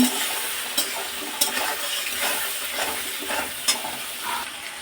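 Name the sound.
stir-frying chicken with spring onion and green chillies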